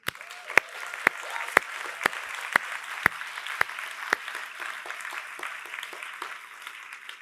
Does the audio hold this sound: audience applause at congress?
yes